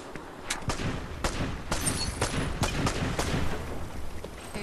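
Gunfire in Fortnite, a string of sharp shots at irregular intervals over steady background game noise, moderately loud and without talk.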